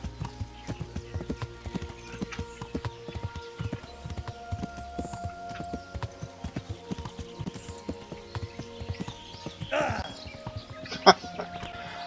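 Horse hooves clip-clop in a steady rhythmic gallop in the medieval video game Kingdom Come: Deliverance, close and continuous, with a brief whinny or clatter near the end.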